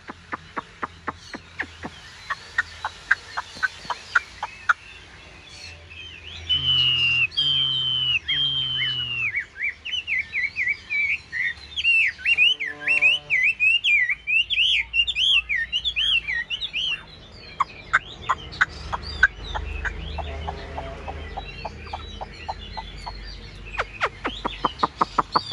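A caged Chinese hwamei songbird sings a long, varied run of loud whistles, warbles and rapid chirps, pausing now and then, with clicks and short sharp taps around the song.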